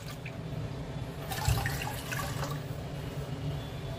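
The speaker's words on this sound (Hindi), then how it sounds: "अब लेंगे एक बाउल, इसमें हम ऐड करेंगे 2 कप पानी" Water poured into a bowl for khaman dhokla batter, a steady splashing, trickling pour heard close and alone, growing a little busier midway.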